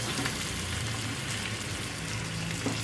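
Mutton pieces added to hot oil with turmeric and chilli in a pan, giving a steady, loud, close sizzle and crackle that continues throughout with no talk.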